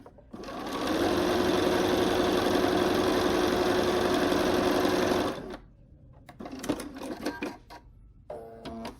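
A home sewing machine stitches quilt seams for a Ukrainian sunflower window hanging, running steadily for about five seconds with a busy mechanical whir before stopping, followed by short bursts of handling noise.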